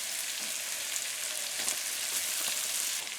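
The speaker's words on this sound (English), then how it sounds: "It should sizzle." Potatoes fry in a pan of oil hot enough to give off faint wisps of smoke, making a steady, close, crackling sizzle throughout with no talking.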